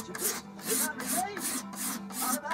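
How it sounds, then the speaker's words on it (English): A sharpened Stanley knife blade scrapes the finish off a strip of oak trim in close, rhythmic rasping strokes, about five passes in quick succession. "I need to take the finish off this side of the pieces of trim, and I'll use a Stanley knife blade to do that"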